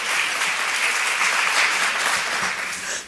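An audience applauds steadily at a talk or event, a dense, continuous wash of many hands clapping at even loudness, tapering slightly at the very end.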